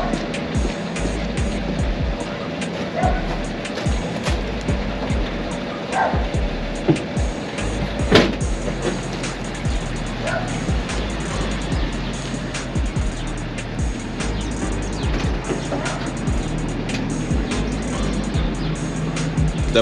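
A pickup truck rolls slowly down a driveway, its engine a steady low rumble with tyre and gravel crunch throughout, fairly close and continuous with no talking.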